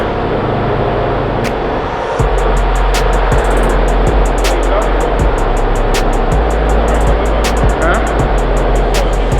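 Car engine revving on a dyno, a loud sustained roar with a steady low drone, punctuated by sharp regular ticking clicks after the first two seconds, continuous and close throughout.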